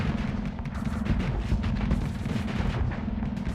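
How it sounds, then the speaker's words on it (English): Missile volleys firing in the space combat game Starsector, a dense, continuous rumble of launches and blasts that holds at a steady loud level for the whole stretch with no talk. "So I just fire the missiles."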